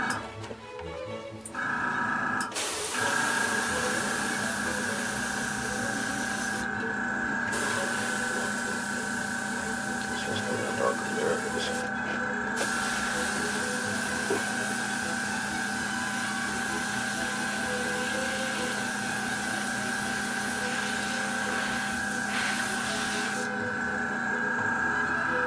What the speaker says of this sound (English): Give him a happy little spray job all down his back with this.